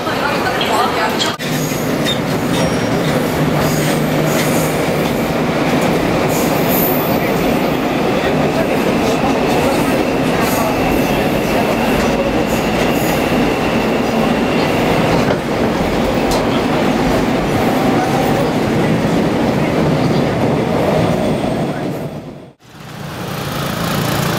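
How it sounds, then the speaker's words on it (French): A Seoul Outer Circle Line subway train pulls into the station, a steady loud rumble and clickety-clack of wheels with faint announcements, ending in a brief dropout. "외선 순환열차가 들어오고 있습니다."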